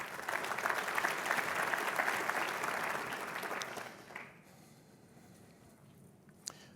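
An audience at a small business finance forum's opening plenary claps loudly and steadily for about four seconds, then the applause fades away into quiet room noise.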